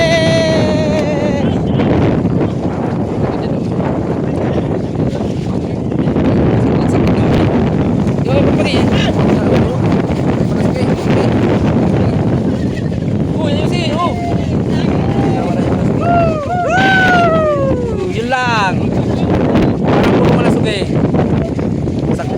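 Strong monsoon wind at sea buffets the microphone from a fishing boat, a steady loud roar with a boat engine droning underneath and people talking over it.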